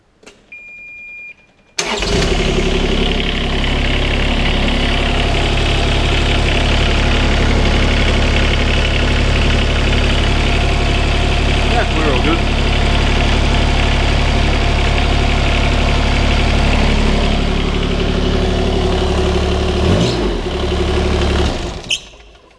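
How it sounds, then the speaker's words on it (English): A Kubota U17-3 mini excavator engine after repairs at 2700 hours cranks and starts, then settles into a loud, steady, close diesel idle that runs for about twenty seconds before cutting off. "So, I'll just start it up and see if it leaks."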